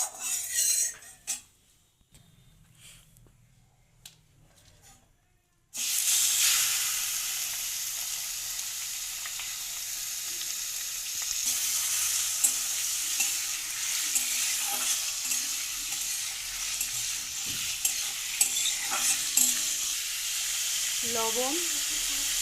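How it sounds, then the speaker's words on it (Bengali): Shrimp frying lightly in mustard oil, a loud continuous sizzle that bursts in after a few seconds of quieter stirring and clinks, then holds steady with occasional spatula scrapes and pops. "এবারে আমি চিংড়ি মাছগুলো হালকা ফ্রাই করে নেব। একটু সর্ষের তেল দিয়ে দিলাম।"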